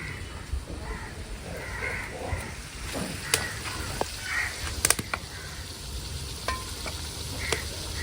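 Tomatoes sautéing with chili powder in a pan for a sardine curry, giving a soft, steady sizzle with occasional scraping stirs and a few faint crow caws in the background.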